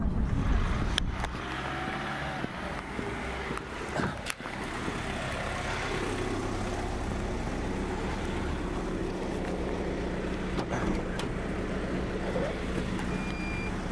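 Steady engine drone and road rumble from inside a car on a hitchhiked ride in Turkey, continuous and fairly loud, with a few sharp knocks near the start and no talking.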